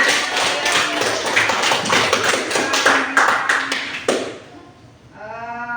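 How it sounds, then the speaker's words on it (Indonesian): A class applauds after a student's presentation in an online lesson: a burst of many hands clapping for about four seconds, then it stops and a short voiced sound follows. "Berikan tepuk tangan ya."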